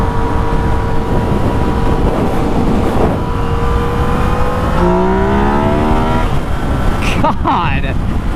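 A 2019 Yamaha XSR900 motorcycle engine drones loudly and close on a ride, rising in pitch through steady acceleration with a few gear changes toward the end.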